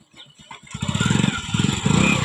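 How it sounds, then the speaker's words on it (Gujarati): A motorcycle engine cranks with a few uneven chugs, then catches and settles into a loud, rapid-pulsing idle close by. "હવે બાઈક ચાલુ થઈ ગયું"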